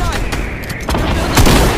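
Gunfire in the video game Fortnite: a rapid, loud burst of shots and impacts over about two seconds, heard under excited players' voices.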